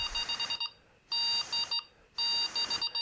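Delkim carp-fishing bite alarm set to beep speed 1 sounds three bursts of rapid electronic beeps, evenly spaced and close, with silence between the bursts.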